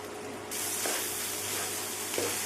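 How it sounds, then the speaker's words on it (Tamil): Crumbled idli drops into a pan of sautéed onions, the steady sizzle jumping louder as it lands, with a few scraping stirs against the pan. "இப்போ உதுத்து வச்ச இட்லியை போட்டுறேன்."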